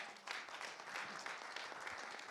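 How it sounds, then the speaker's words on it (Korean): A ceremony audience at an anniversary event applauding an honorary chairman, producing a dense, faint patter of clapping that runs throughout without a break. "여러분 박수 부탁드립니다"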